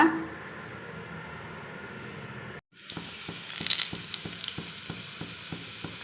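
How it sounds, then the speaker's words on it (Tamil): Mustard seeds and vadagam go into hot oil: after a quiet start and a brief gap, a bright crackling sputter bursts out close by, with repeated stirring or scraping knocks. "இப்போ இந்த எண்ணெய் நல்லா காஞ்சிடுச்சு இது எல்லாத்தையும் நம்ம போட்டு எண்ணெயில் தாளிச்சிக்கலாங்க இந்த கடுகுலாம் நல்லா பொரியட்டோங்க"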